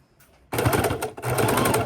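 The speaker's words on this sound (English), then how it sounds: "So needle down, and we're just going to work this around." A sewing machine stitches around the fabric edge of bias binding on a bowl cover, starting after a quiet moment with a close, steady rapid whirr and a short pause midway.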